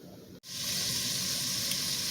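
Butter hits the hot pan used for cooking shrimp and starts to sizzle, a sudden steady hiss that sets in after a short pause and holds evenly, close and with no talking.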